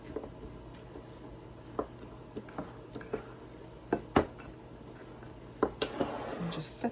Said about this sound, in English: I'm going to just give that a wee bit of a mix and set that aside